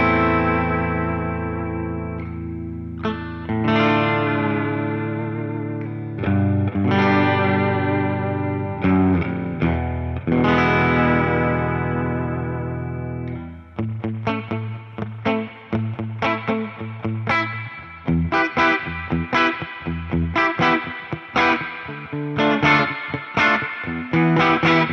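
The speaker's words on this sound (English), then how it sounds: "It's like you can hear those springs just a-cranking." Fender '65 Spring Reverb from a Tone Master Pro on electric guitar: sustained chords wash into a dense spring-reverb tail, then a run of quick, choppy strummed stabs follows, each with a splashy ringing decay, loud and continuous.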